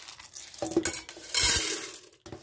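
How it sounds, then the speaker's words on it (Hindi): Washed lentils tipped into a metal pressure cooker in a home kitchen, a close rattling pour with metallic clinks and scraping that builds into a longer rush before stopping. "आप देख सकते हैं मैंने दाल डाल दी है कुकर में"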